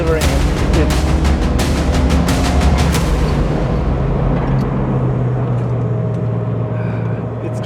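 Subaru Impreza WRX STI Type R V Limited, one of 635 built, driving with a strong engine roar and a burst of sharp crackling pops early on, settling into a steady drone with voices present.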